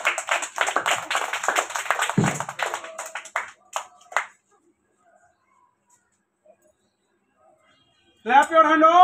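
Children clap their hands at a Teachers' Day gathering, a quick burst of rapid, close claps under chatter that trails off into silence before a voice speaks again.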